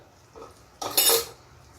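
A spoon knocks and clinks against a bowl while mixing batter, one soft tap followed by a louder burst of ringing metal-on-dish clatter, close and brief, with no talking.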